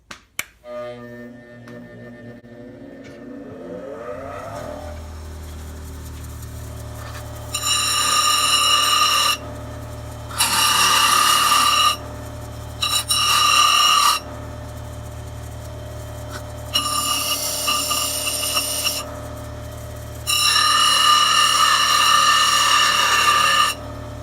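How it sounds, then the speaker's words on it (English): A bench grinder set to slow speed spins up with a rising hum, then grinds a carbide wood-turning tool flat in five separate bursts of harsh, gritty grinding between stretches of plain motor hum. "I'm going to put this on the slow speed on the grinder."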